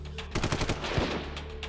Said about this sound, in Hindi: पूरा इलाका गोलियों की आवाज से